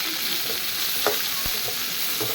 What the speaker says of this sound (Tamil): அப்புறம் வெங்காயம், தேவையான அளவு வெங்காயத்தை போட்டு நல்லா வதக்க வேண்டும்